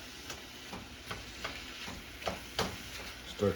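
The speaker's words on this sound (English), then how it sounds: "let's go back to our beef, which is now starting to brown" Beef browning in a pan for stuffed peppers, with a low steady sizzle under scattered clicks and scrapes of stirring. Faint and close, with no talking.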